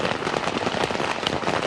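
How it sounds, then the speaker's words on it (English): Heavy tropical downpour in Sulawesi pounds hard and fast against a camera, a dense, crackling barrage of sharp impacts that sounds almost like gunfire. "it's the rain beating on the camera during the typically tropical downpour"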